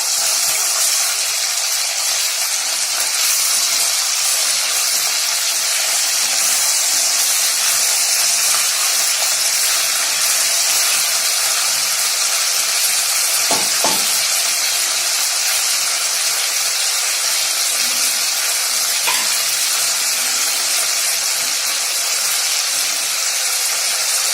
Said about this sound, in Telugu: దీన్ని కొంచెం ఫ్రై చేసుకోవాలి.